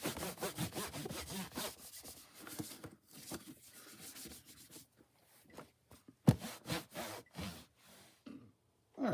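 A cloth or wipe scrubs greasy residue off the plastic casing of a Uniden Bearcat BC 142XL radio scanner, with quiet, close rubbing strokes in uneven back-and-forth bursts and short pauses, without talking.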